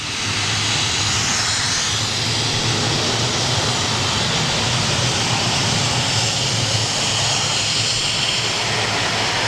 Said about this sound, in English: Little bit of a spool up, perhaps. Yeah. I think that's a Rolls-Royce power plant there.